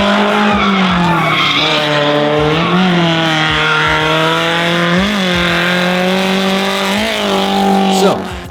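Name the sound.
Toyota AE86 drifting with tires squealing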